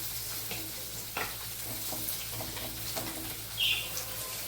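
Curry leaves and green chillies sizzle in hot oil for a Kerala fish curry, a steady faint frying hiss with occasional pops and stirring clinks, close by and without talk.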